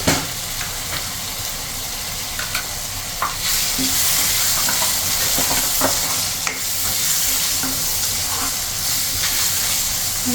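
Tomatoes and onions for baingan bharta fry in a pan with a steady, close sizzling hiss, broken by occasional scrapes and taps of stirring.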